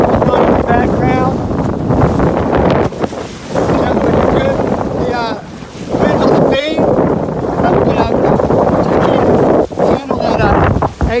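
Wind rushes past the mic while a Farrier trimaran sails downwind in a 10 to 12 knot breeze with whitecaps. A loud, steady roar gusts throughout, with brief dips.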